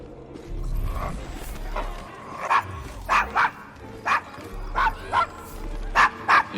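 A dog named Desmond barks in the Devil's Acre, a rough district of Victorian London in Assassin's Creed Syndicate, giving a series of sharp, fairly close barks in an irregular rhythm over a low street ambience.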